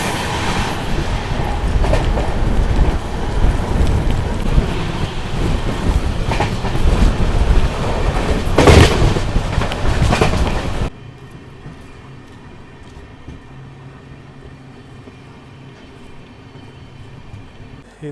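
The 16576 Mangaluru–Bengaluru Gomateshwara Express crosses the Yesvantpur–Mysuru via Hassan train at Hirisave station: a loud, close rumble and wheel clatter for about eleven seconds, then an abrupt drop to a quieter, steady low hum.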